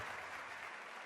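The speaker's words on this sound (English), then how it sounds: "What an applause" A dense, steady wash of crowd applause in the video game The Legend of Heroes: Trails of Cold Steel fills the moment, loud and continuous with no gaps.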